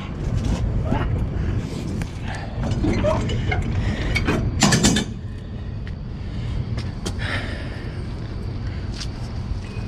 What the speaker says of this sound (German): deswegen musste ich hier so eine Handratsche nehmen